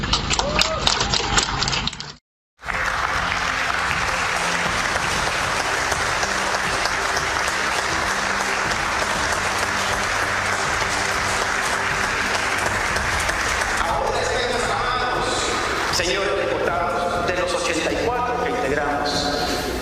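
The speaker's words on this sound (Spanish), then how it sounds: "Aplausos, por favor." Sustained, dense applause fills a parliamentary assembly hall, loud and continuous after a brief cut, with a voice speaking over the tail end.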